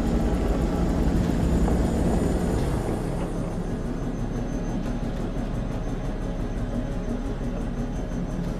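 A loud, steady helicopter rotor drone in the video game Man of Medan, with heavy low rumble filling the whole stretch, close and continuous.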